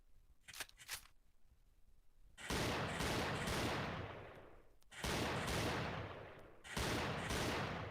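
Rapid gunfire in a zombie shooting video game rings out in three long sustained bursts of sharp reports with decaying tails, following a few faint short pops at the start.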